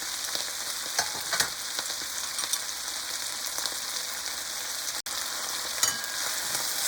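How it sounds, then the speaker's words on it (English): Pad see ew noodles stir-frying with sauce in a hot pan, a steady close sizzle with scattered scraping and tossing clicks from stirring, no voices. "Stir the mixture until thoroughly combined."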